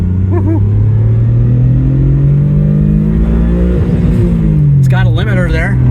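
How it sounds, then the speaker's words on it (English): Mitsubishi GTO MR car accelerating hard from inside the cabin, a loud engine drone rising steadily in pitch through the gears, with voices briefly heard over it. "See if we can get a nice little acceleration run going."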